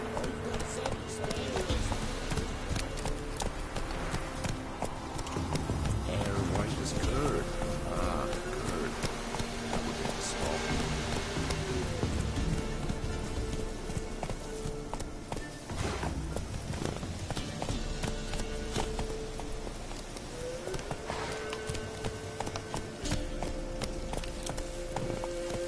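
Roach, Geralt's horse in The Witcher 3: Wild Hunt, gallops with a steady clip-clop of hooves that runs throughout, set against a dense bed of game music and ambience.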